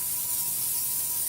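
Oil spray is misted steadily over a raw turkey set on a natural rack for roasting, a continuous close hiss with no talk.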